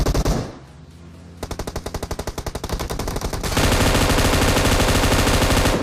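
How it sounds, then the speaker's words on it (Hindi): Rapid automatic gunfire in a mobile battle-royale shooter, loud and close, with bursts that start sparse and quicken into a dense, sustained stream of shots. "सामने से फायरिंग की साउंड आ रही है बहुत देर से"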